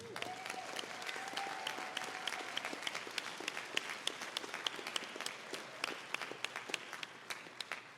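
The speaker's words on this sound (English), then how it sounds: "Let's give them a round of applause." Theater audience applauding after a live show, with dense clapping that has sharp individual claps standing out and no talk over it.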